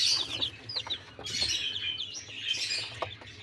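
Newly hatched chicks peep in a brooder, a busy cluster of high thin chirps rising and falling close by, with a soft low hum underneath.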